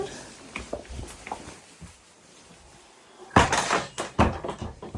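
A small wooden door, about three feet tall, opens into a dirt-roofed hut on a backpacking route in Norway's Lofoten islands: soft creaks and handling knocks, then a louder burst of scraping and thuds close by.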